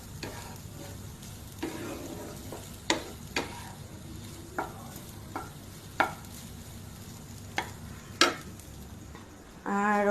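Vegetables fry in a pan in a home kitchen with a steady low sizzle, punctuated by occasional sharp scrapes and taps of a spatula stirring, fairly quiet and close, with a louder clatter at the end.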